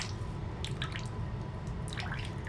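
Water dripping and trickling from a wet charcoal shaving brush, a steady close splattering patter of drops with no talk.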